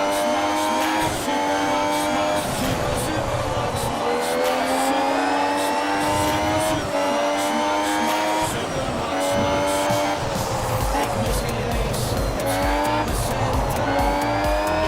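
Race cars in F1 Mobile Racing on the Zandvoort circuit slide through the opening corners, loud engine whine rising and falling with tire squeal and skidding, continuous throughout with no talk.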